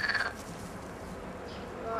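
Frogs croaking in mating season by the Darnytsia river in Kyiv form a dense, steady chorus, with a louder burst of calls at the start.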